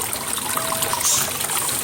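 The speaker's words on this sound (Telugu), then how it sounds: "చూడండి ఎంత బ్యూటిఫుల్గా ఉన్న వాటర్ ఫాల్" Water trickles and splashes steadily through a homemade garden waterfall built from stacked pots, a close, continuous flowing sound with no voices.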